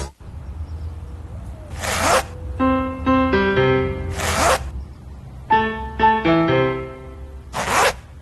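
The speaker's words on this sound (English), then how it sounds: "Introducing the new Pedigree Slide Right Zipper Bag" A zipper slides repeatedly along a Pedigree Slide Right Zipper Bag, three sharp rasping pulls spaced a couple of seconds apart, with bright musical tones sounding between them.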